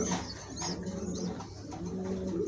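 Rare breed pigeons coo softly in repeated low murmurs from a pigeon seller's coop, a gentle rolling sound with faint chirps and a steady background hiss.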